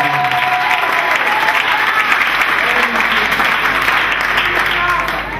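A live gospel crowd at a Jamaica concert claps together in praise, a loud, dense, continuous wash of applause with faint voices mixed underneath.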